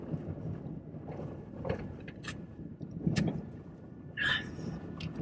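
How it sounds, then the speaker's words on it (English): A truck idles with a low, steady engine rumble running throughout, broken by a few short mechanical clicks and a brief higher whine near the end, and no voices. "Hopefully the sound of my truck isn't louder than the sound of my voice"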